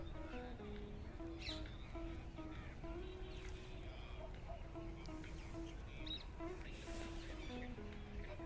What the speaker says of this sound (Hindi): सुबह सुबह चिड़ियों की आवाज़ सुन सकते हैं